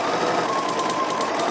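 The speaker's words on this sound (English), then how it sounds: "So when you are sewing your band around again, you need to stretch it as you sew it." A sewing machine stitches a stretched waistband onto a pair of jeans, its fast, even motor whir running steadily and close up for a short burst.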